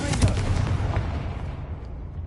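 A Confringo blasting spell explodes during a fight with a giant spider in Hogwarts Legacy, giving a deep booming burst that rolls into a long, rumbling decay.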